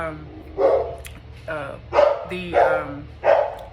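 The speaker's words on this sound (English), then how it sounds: "our dog was barking" A dog barks about five times in an even rhythm, fairly close and moderately loud, with no talking.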